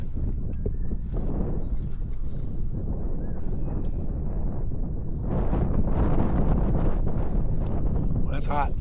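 Strong wind on a cloudy day at Tuyen Lam Lake buffets the microphone with constant low rumbling gusts that rise slightly toward the end, close and loud.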